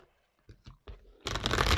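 Oracle cards riffled and shuffled by hand: a few soft taps and slides, then a loud, dense rustling burst at the end, close up with no talking.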